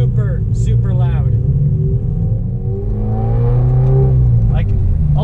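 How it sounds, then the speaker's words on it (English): Modified 2013 Scion FRS with a loud aftermarket exhaust, a heavy low droning note that rises and shifts in pitch as the car accelerates, with people talking over it at moments. "the first thing that I'm noticing is it is super, super loud"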